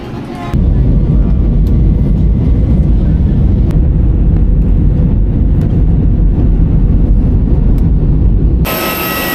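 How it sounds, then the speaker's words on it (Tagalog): An airplane during boarding for a flight to Puerto Princesa, Palawan: a loud, close, continuous low engine roar that holds steady for most of the stretch, with brief quieter moments at each end. "So, yun na yung aeroplano."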